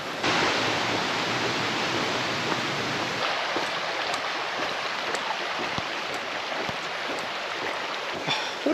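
The River Dee runs through the Yorkshire Dales along the Dales Way, giving a steady, broad rush of flowing water that carries on evenly throughout, with a few faint clicks and no voices.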